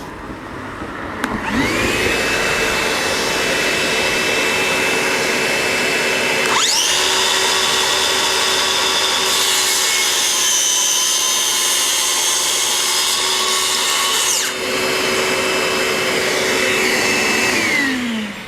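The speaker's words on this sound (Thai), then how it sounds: "ต่อไปเดี๋ยวเราจะเปิดเครื่องดูดฝุ่นกัน" A vacuum cleaner whines steadily throughout while a Stanley FatMax SBC550 circular saw spins up and cuts alongside it, loud and continuous, then both wind down.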